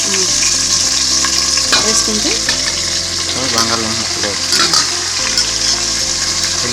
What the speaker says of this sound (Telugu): వీటిలో మిరియాలు యాలకులు వేసి దోరగా వేయించాలన్నమాట